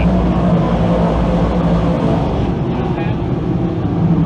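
358 dirt modified race cars roar around the turns of a dirt speedway in a loud, continuous engine drone that swells and shifts as the pack passes.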